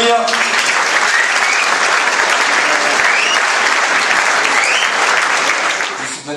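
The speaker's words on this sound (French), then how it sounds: "on peut l'applaudir." At an award ceremony honoring a man of the year, a crowd claps loudly and continuously, dense and steady before tapering slightly at the end, with a few voices mixed in.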